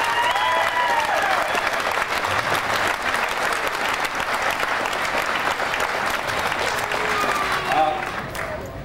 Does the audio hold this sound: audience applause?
yes